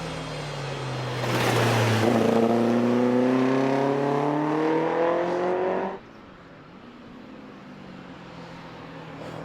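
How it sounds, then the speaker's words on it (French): Alfa Romeo TZ with a 1600cc aluminium four-cylinder boxer Twin Spark engine at an endurance racing legends event, revving hard and climbing in pitch as it passes close, then dropping off abruptly to a lower distant drone. "Le son de ce petit 4 cylindres boxer en aluminium de 1600 cm3 double allumage Twin Spark est vraiment caractéristique."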